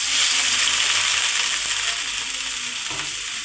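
Fried chillies and onions sizzle loudly in a pan as a little water is added, a dense, even crackling hiss that holds steady and close throughout.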